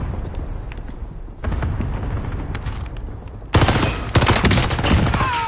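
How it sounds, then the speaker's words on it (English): Gunfire in a shooter video game: bursts of rapid automatic shots and sharp single cracks, growing much louder and denser in the second half, with no speech. "They're shooting at me."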